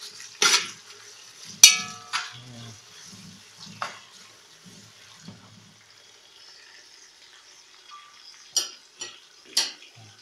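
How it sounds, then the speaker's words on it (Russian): Kyrgyz plov with chicken and onions stirred in a pot, scattered metal scrapes and clinks of a utensil against the pot with soft low thuds, intermittent and close, separated by quiet gaps. "Теперь еще раз перемешиваем."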